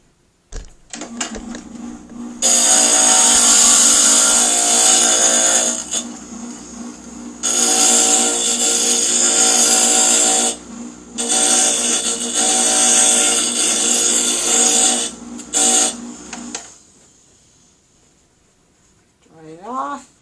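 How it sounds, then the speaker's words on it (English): A stained glass grinder grinds a glass edge, loud high whirring bursts of several seconds each, repeatedly starting and stopping with short gaps, then falling silent at the end. "So let me grind that real quick."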